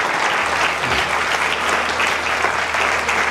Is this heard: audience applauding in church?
yes